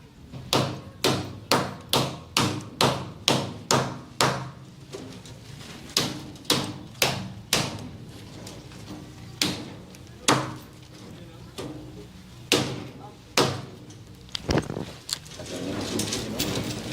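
Sharp hammer blows strike in quick succession while forcing something open, then slow to irregular hits with pauses, over faint background noise.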